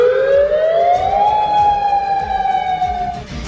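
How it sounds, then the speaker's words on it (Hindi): A loud, continuous tsunami alert siren wails late at night in Kodiak, Alaska, after a magnitude 7.2 earthquake, its pitch rising steadily and then holding high before it cuts off abruptly near the end. "अलास्का के कोडियक में देर रात सायरन बजता रहा"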